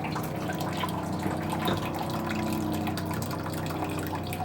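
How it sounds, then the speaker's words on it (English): Water steadily filling the toilet bowl in a Class A motorhome, a continuous hiss and gurgle with faint drips, close and fairly quiet, no talking. "See, the water is being filled up."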